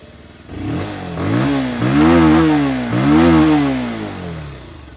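A Bajaj Pulsar 180F BS6 motorcycle idles through its exhaust, then is revved twice in loud, close blips that rise and fall before settling back to a steady idle.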